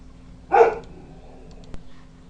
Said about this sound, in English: And then a part of my dog barking.